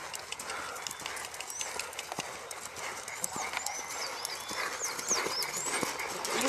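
A horse trots on a training track, its hooves clopping in a light, steady rhythm at a moderate distance, faint against outdoor ambience with scattered high chirps.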